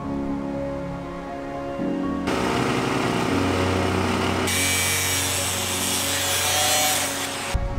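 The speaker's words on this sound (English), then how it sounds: "now that it's completely welded," Power tool cutting through a welded metal piece during a jungle shed build, a steady loud grinding whine that shifts pitch and intensity midway and stops abruptly near the end, no talking.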